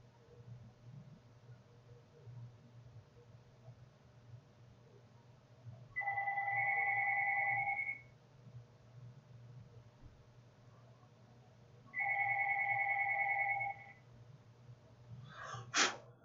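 A mobile phone rings twice, each burst a steady two-second electronic ring separated by a long pause, fairly clear over a quiet room hum with no talking.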